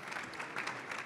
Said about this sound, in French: Merci de les accueillir s'il vous plaît avec des applaudissements chaleureux pour leur donner du courage.